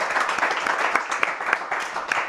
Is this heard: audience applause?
yes